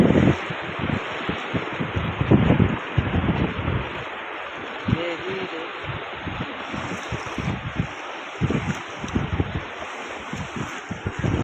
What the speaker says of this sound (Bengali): জলের স্রোতটা এইভাবে আসছে